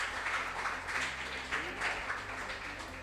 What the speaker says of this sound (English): Please, let's clap for them.